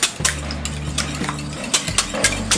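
A whisk beats green chillies and black pepper into an egg mixture in a bowl, giving quick clinking and scraping strokes over a low steady hum, with no talking.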